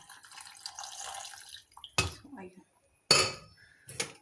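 Cold water is poured into a pot of green lentils in a kitchen, producing a short run of splashing and pouring followed by sharp clinks of a metal pot and utensils, close and moderately loud.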